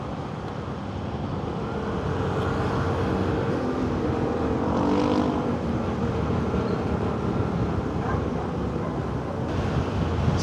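Motor scooter without a top box accelerating along a road, a steady engine roar with heavy wind buffeting on the microphone, building slightly and holding.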